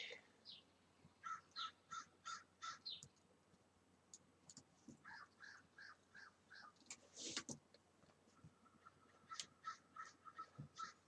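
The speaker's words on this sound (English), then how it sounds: "Crows are angry." Angry crows caw repeatedly outdoors, a series of harsh, evenly spaced calls from more than one bird, moderately near and clear over a quiet background.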